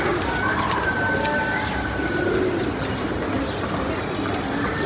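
Racing pigeons coo softly close by as they come in to land, with a low, murmuring texture and scattered wing and movement sounds, faint against background noise.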